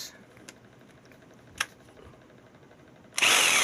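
A repaired Bosch hammer drill bursts into a loud, steady whir near the end, after a quiet stretch marked by a few sharp clicks and a low hum.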